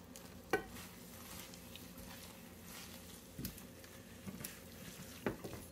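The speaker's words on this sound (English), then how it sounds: "I'm just gonna toss these noodles in here real quick" Noodles land in a hot pan and get stirred, a faint steady sizzle running under a few light clinks and scrapes, with one sharper clatter near the start and more toward the end.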